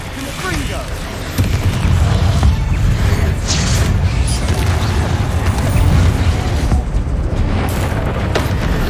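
A Confringo spell blast in the video game Hogwarts Legacy, a loud, sustained rumbling burst with deep booming low end and crackling mechanical debris that swells and holds for several seconds.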